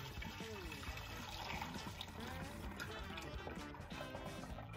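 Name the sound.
liquid being poured through a funnel into a glass carafe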